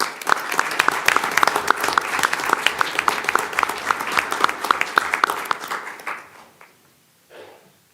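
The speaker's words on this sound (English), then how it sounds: "If you give Abby a big round of applause" Dense, steady applause from a school board meeting audience honoring a volleyball player, loud and continuous for about six seconds before tapering off into near silence with a brief faint stir at the end.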